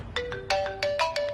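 A mobile phone ringtone plays in a movie scene: a bright, melodic electronic pattern of short repeated tones in quick rhythmic bursts, clear and close.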